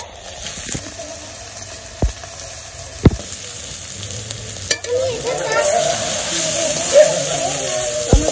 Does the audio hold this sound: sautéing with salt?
yes